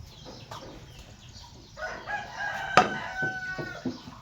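A chicken clucks in short bursts, then a rooster crows loudly nearby, followed by a few more clucks over quiet farmyard background.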